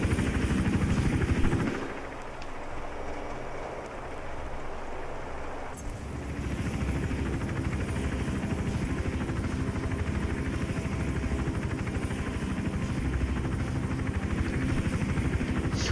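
A helicopter in the video game Hitman Absolution drones with a loud, continuous rotor whir that dips briefly before returning at full strength, steady and close with no speech.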